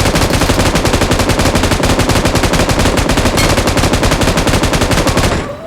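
Sustained automatic gunfire in a shooter video game, a rapid, loud, even stream of shots lasting several seconds before cutting off abruptly, with no talk.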